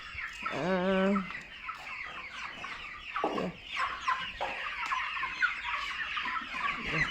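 Chickens cluck and squawk on a farm, one loud harmonic call near the start, then a busy overlapping chorus of clucks and chatter continuing steadily throughout.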